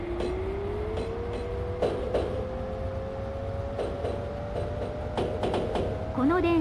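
An E231-500 series Yamanote Line train pulls out of Shinagawa in the video game Densha de GO, its electric motor whine rising steadily in pitch amid clattering wheel thumps, with brief voices in the background.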